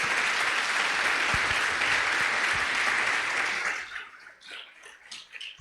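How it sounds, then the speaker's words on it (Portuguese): A church congregation applauds with a loud, dense, sustained wash of clapping that cuts off after about four seconds, leaving quieter room sounds. "Você pode aplaudir Jesus"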